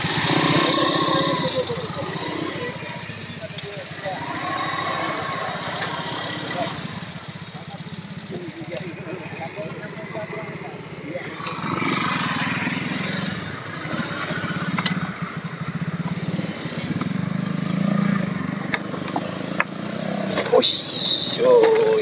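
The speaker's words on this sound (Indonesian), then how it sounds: "Ini saya yang bawa motor." A motorcycle ridden on a rough, broken village road, its engine a steady drone throughout with bumps and rattles, while people talk over it.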